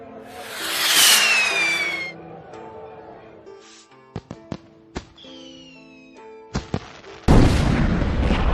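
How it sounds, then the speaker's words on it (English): Cartoon rocket explosion from an animated Mulan story, with a rising whoosh, sharp booms and crackling bursts, ending in a loud noisy blast that is set against music. "The force of the explosion sent Mushu and Kriki flying through the air"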